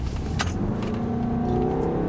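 A BMW X1 (F48) pulls hard from a standstill, its engine note rising steadily through the revs under full acceleration, heard from inside the cabin with a constant road and wind roar.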